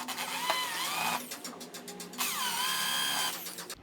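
A power drill bores a hole in wood to hide a screw head in a mitred joint, two whirring bursts rising and falling in pitch with a pause between, close and loud.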